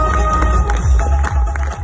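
A crowd claps and cheers for women serving the people at a Kyrgyz gathering, dense, loud and close, with continuous rustling applause and no distinct voices.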